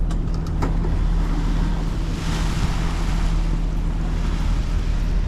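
Waves wash steadily against a cruising boat on the Hudson River after a cement barge passes, a continuous loud rush of water with wind noise and a low engine hum, no talking.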